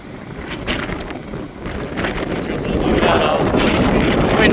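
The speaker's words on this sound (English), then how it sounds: "Windy day." Gusty wind buffets the microphone at Cline Falls on a windy day, a rough, rumbling roar that builds and grows louder and steadier toward the end, with no talk over it.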